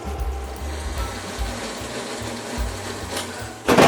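An electric mixer whisks egg whites to stiff peaks for a peanut butter pie, giving a steady low motor whir with a mild grinding texture that surges louder in the last moment.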